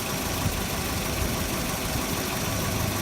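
A car engine runs steadily during a brake line vacuum test in a garage, giving a continuous idling drone with a low rumble and even vibration throughout, without speech.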